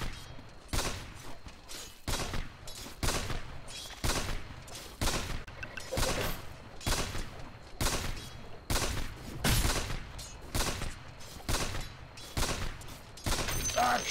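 Gunfire in Dota 2's sniper mission cracks out as a steady series of sharp, loud shots, roughly one or two every second, with brief pauses between.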